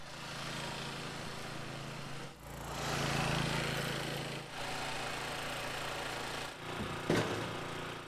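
A cylinder lawn mower cutting grass, a steady close engine drone with small dips as it turns between passes, running on its own with no talk.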